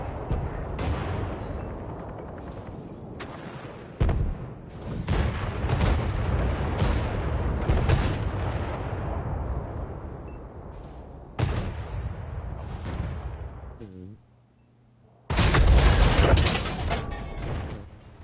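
Artillery blasts and battle noise from the World of Tanks video game, with repeated heavy booms and crackling gunfire filling the scene, a brief lull, then a loud closing burst of explosions.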